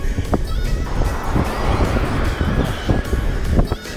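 A vehicle overtakes on the road, its engine noise and rushing wind swelling loud and close before it passes, with wind buffeting and road roar throughout.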